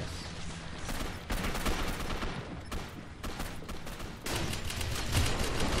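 Rapid gunfire in the video game Gotham City Impostors, loud and continuous bursts of shots filling the whole stretch with brief breaks.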